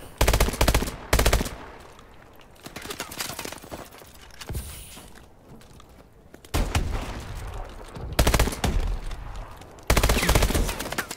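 Loud automatic gunfire in Call of Duty: Advanced Warfare, Arms Race mode, with dense rapid bursts separated by quieter stretches of game noise and scattered impacts, the firing returning repeatedly and close.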